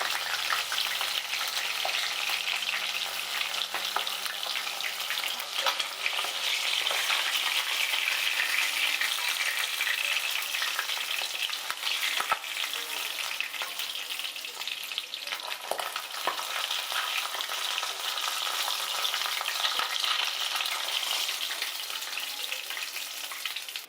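Pabda fish fry in hot oil in a pan, giving a continuous crackling sizzle for the whole stretch with occasional stirring clicks and no talking.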